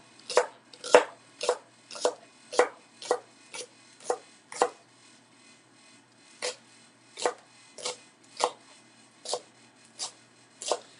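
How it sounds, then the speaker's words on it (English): Green onions chopped with a knife on a cutting board, with a steady run of sharp, close knocks that pause briefly partway through and then resume at a slightly slower pace. "for green onions, on the cutting board, literally just chop into whatever size pieces you like"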